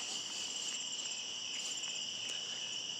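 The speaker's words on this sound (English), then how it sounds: "What is that? I think it's a frog." Steady, high-pitched insect-like trilling from a calling frog, a continuous shrill chorus running unbroken throughout, fairly close, with no talking over it.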